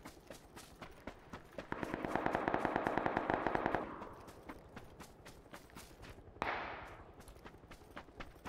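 Distant gunfire in the PUBG battle royale game crackles through a stretch of sustained noise, with regular running footsteps thudding throughout and a sudden burst of sound toward the end.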